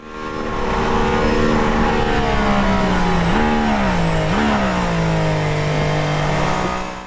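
A Mercedes-AMG hybrid supercar with a Formula One-derived V6 and four electric motors roars loud and close, its high, buzzing engine note holding steady, then dipping twice in pitch as it shifts and pulls on, with no voices.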